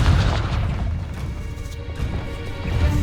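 A Confringo explosion spell in Hogwarts Legacy lands as a loud, booming crash with a rumbling low body that sustains for a few seconds, alone without talk.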